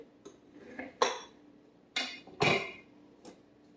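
Metal pots and utensils clank and knock while beef broth is being strained in a home kitchen, with four or five sharp, separate clinks and bangs of cookware at close range.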